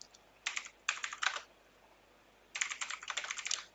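Close keyboard typing on a computer in Microsoft Word, quick clusters of keystrokes in two bursts separated by a short pause, with no talk.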